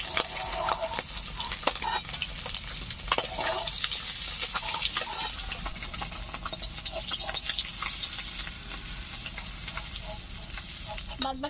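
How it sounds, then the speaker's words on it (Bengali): Katla fish pieces frying in hot oil in a village kitchen, a continuous close sizzle with occasional stirring scrapes and crackles throughout. "বাদ বাকি মাছগুলো ভেজে নিচ্ছি।"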